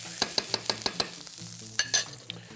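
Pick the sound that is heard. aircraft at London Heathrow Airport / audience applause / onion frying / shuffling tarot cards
onion frying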